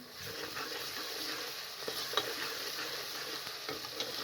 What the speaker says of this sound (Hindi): 1 से 2 मिनट तक अच्छे तरीके से फ्राई कर लें।